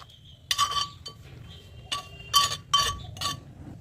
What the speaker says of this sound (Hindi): अब इनको अच्छी तरह से इस तरह से हम इन्हें कूट लेते हैं। छिलकों को कूटिए।